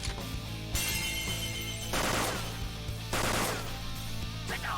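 Rapid bursts of gunfire in an attack in the game Persona 5 Royal, three loud volleys separated by brief gaps over a steady musical backdrop.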